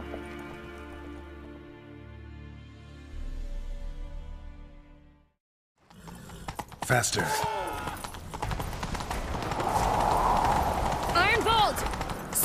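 Horse hooves galloping in a chase in The Witcher 3, a fast drumming of clip-clops after a brief silence, loud and close under game music and shouted voices.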